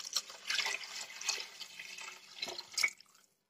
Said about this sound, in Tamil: நான் அளந்து வச்சிருக்கேன் தண்ணி அதை இப்போ நம்ம ஊத்திடுவோம்